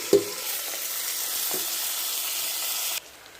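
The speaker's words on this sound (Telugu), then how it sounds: "ఇలా కుక్కర్లో 2 టేబుల్ స్పూన్స్ ఆయిల్ వేసుకొని ఆనియన్స్ వేసుకోవాలి." Sliced onions sizzle in two tablespoons of oil inside a pressure cooker, a steady hiss that opens with a sharp clunk, has a second soft knock midway and cuts off abruptly near the end.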